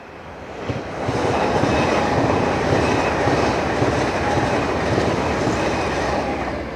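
A Pendolino train rushes past nearby with a loud, steady broadband roar and a faint clatter of wheels, building in the first second and then holding without a break.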